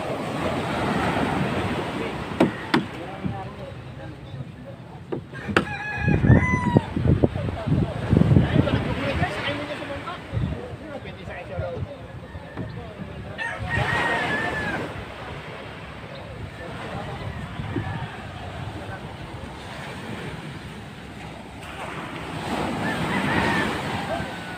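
Large sea waves breaking on a shore where boats have been hauled up: loud, rolling surf roar that swells and recedes in repeated surges, with wind buffeting the mic and people talking intermittently over it.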